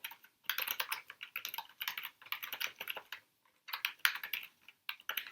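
Rapid typing on a computer keyboard, quiet and close, comes in bursts of clicky keystrokes with short pauses between runs and no speech.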